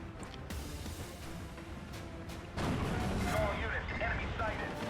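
In a WWII strategy video game, a Sherman tank and artillery fire on an infantry squad, producing booming gunfire and shell blasts that swell to a louder, denser rumble partway through, under a steady background bed.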